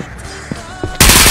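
Gunfire in the Ghost of Tabor video game, fired by a teammate: a few sharp shots at moderate distance, then a louder, dense burst of firing close by at the end, with no talking.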